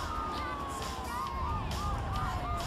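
Police car sirens wail in GTA 3, several rising and falling tones that overlap at a moderate distance. They sound over a low driving rumble with some background noise.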